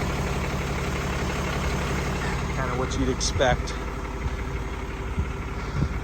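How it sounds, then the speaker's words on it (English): A Cummins diesel engine in a 2021 RAM 5500 crew cab truck idles with a steady low rumble and clatter as someone talks over it nearby. "The engine sounds healthy. It's a Cummins,"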